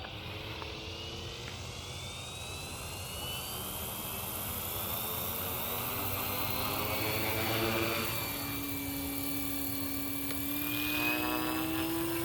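An ALZRC Devil 380 TBR radio-controlled helicopter flies close by, its rotor and motor giving a loud, steady whine and whirring buzz that climbs slightly in pitch and holds level for the whole stretch, with no one talking.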